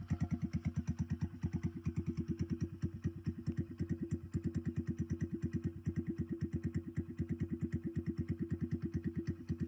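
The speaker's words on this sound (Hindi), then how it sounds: "तो भाई आवाज़ चेक करो मोटरसाइकिल की कैसी आ रही है" A Hero Splendor motorcycle with a rebuilt engine runs steadily nearby, its single-cylinder exhaust putting out a fast, even low thumping beat throughout with no other sounds.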